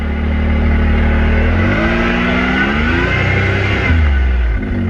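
A 2023 Can-Am Maverick X3 DS side-by-side engine drones loudly and close on a trail ride, its pitch rising and falling as it revs through the clip.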